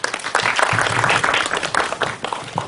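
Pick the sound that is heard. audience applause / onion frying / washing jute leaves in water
audience applause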